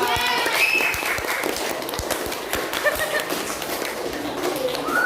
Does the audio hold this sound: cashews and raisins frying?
no